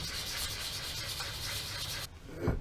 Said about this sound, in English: I'm just gonna give it a very quick rub down by hand just to smooth everything out